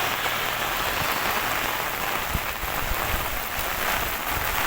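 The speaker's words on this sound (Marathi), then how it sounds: "पाऊस जोरात आहे" Heavy monsoon rain in Kerala pours steadily beside a main road, a dense unbroken hiss drumming on surfaces, with gusts of wind and no voices.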